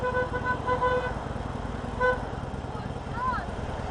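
Car horns toot in roadside traffic, a few short beeps and a longer honk standing out over the steady rumble of passing vehicles, with a voice speaking nearby.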